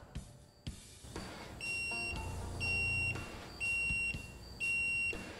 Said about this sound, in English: if you place this thing on a surface that's so unlevel that the pendulum won't work, it will give you an alarm